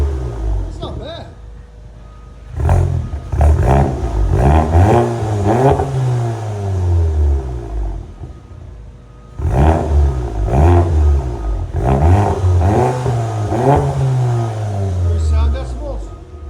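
VW GTI with a Unitronic exhaust and 3-inch downpipe, tuned to about 400 hp, revved hard in two loud bursts of climbing engine roar with deep rumble, each falling back to idle.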